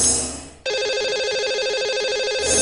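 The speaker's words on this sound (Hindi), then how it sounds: "तो चलिए लगाते हैं एक कॉल और करते हैं इनसे बात।" A telephone ring tone sounds on a Hindi radio show as a call goes out to a lucky caller, giving a steady, continuous electronic ring that starts sharply and holds at even volume.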